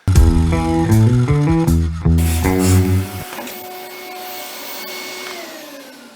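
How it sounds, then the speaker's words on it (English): A dust extractor used as a shop vac in a woodworking shop, its loud tonal motor whine shifting pitch in steps before settling into a steadier, quieter hiss and hum that slowly fades. "That's why that dust extractor is pretty cool. You can use it as a shop vac."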